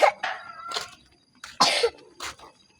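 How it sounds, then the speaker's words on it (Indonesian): A few sharp, close coughs, about three or four harsh bursts separated by short pauses, with a throaty rasp. "Batuk lagi, tutup ya kalau dibatuk ya"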